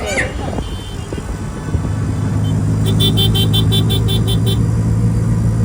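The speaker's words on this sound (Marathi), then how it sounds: "चला रिक्षाने पण कधीतरी फिरा हो" An auto-rickshaw carries a family to a fair, its engine droning steadily and close. Road traffic surrounds it and a series of rapid horn toots sounds partway through.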